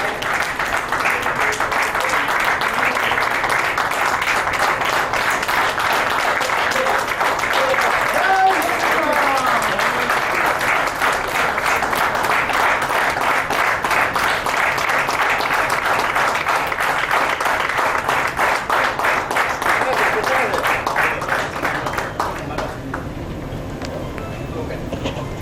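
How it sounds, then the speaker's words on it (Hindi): An audience at a Marwari youth forum award ceremony keeps up steady rhythmic applause for about twenty seconds before it fades, with faint voices underneath. "और आपकी तालियां बजती रहनी चाहिए"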